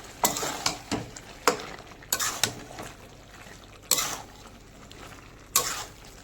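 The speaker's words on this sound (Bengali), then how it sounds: "তো গাওয়া ঘিটা দিয়ে একটু নাড়াচাড়া করে নেব।" A spatula scrapes and knocks against a pan while a mushroom and cauliflower dish is stirred with ghee, in irregular sharp strokes a second or so apart over a faint sizzle, close and clear.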